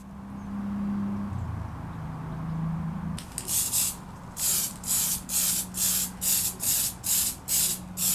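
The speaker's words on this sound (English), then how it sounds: "I will spray onto that a clear semi-gloss spray paint, a Mr. Hobby semi-gloss top coat" A Mr. Hobby clear semi-gloss top coat sprayed from an aerosol can onto a scratch-built toy weapon, a run of about nine short hissing bursts in a steady rhythm, loud and close after a quieter lead-in.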